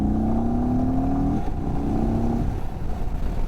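Indian Sport Chief motorcycle with a 116 cubic-inch V-twin revving loud and close, the engine note climbing steadily and then dropping back to a rumbling idle.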